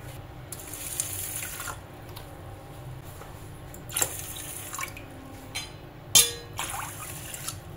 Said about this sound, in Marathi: आता आपल्याला या डाळी भिजतील एवढं पाणी घालायचं यामध्ये।